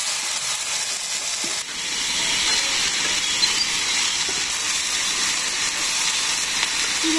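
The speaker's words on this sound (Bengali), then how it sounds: "আলু, বেগুন, সিম, ডাটা ভালো করে আমি ভালো করে ভাজে নিলাম" Potato, eggplant, beans and vegetable stems fry in a pan in a Bangladeshi village kitchen, giving a steady, close hissing sizzle that holds level throughout with no talk.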